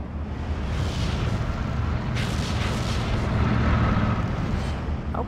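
Mortar barrages in the WWII strategy game Steel Division 2 keep up a dense, continuous low rumble of distant blasts, loud and unbroken, with no voices over it.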